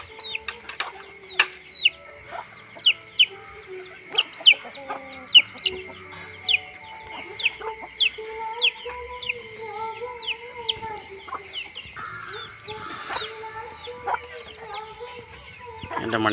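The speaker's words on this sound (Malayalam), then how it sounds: "എന്താണ് നമ്മുടെ വെള്ള കോഴിക്കുഞ്ഞ്." A white chicken chick and farmyard fowl cluck and peep in a quiet yard, a string of short, sharp chirps in an uneven rhythm with softer clucking underneath.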